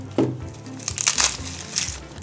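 A plastic bag crinkles and rustles softly in a kitchen while garlic is being peeled for a Chinese garlic sauce, with scattered light crackles and rustling bursts close by.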